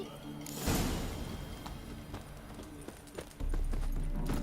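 Roach, the horse in The Witcher 3, breaks into a gallop with a sudden whoosh and thumping hoofbeats, the pounding rumble resting briefly before surging again, close and moderately loud.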